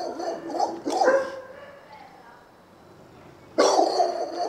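A dog barks in a few loud, close bursts separated by a quieter pause, with speech mixed in around the barks.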